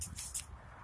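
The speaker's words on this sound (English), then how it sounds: "So I'm just kind of spraying around." Hand spray bottle misting herbs in a home herb garden to deter aphids and ants, three quick hissing spritzes in a row, close and fairly soft, then quiet.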